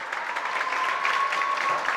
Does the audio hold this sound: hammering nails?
no